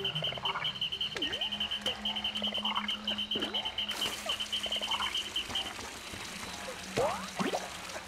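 Croaking of a frog creature from the video game Pikmin 4, a repeated rhythmic call sitting amid a busy layer of game ambience and chirpy effects, steady and moderately loud throughout.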